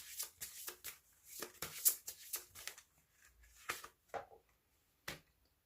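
Tarot-style advice cards are shuffled and drawn close by, producing quiet riffling flicks and soft slaps in an irregular rhythm that fades to a few isolated taps.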